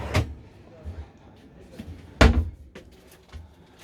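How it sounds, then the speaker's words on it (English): In a 6 meter Rimor RV, a storage drawer slides out with a few light knocks and one sharper thump partway through. The sounds are close and fairly quiet, with faint background noise in between. "I've got a drawer that comes out."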